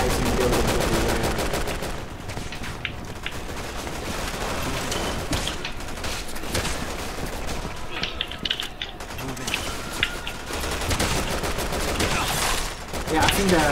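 Rapid bursts of automatic gunfire and shots from the video game Resident Evil 6, set on Hong Kong-style rooftops during a two-player co-op session, crackling steadily throughout with mechanical clatter, and voices talking over the action.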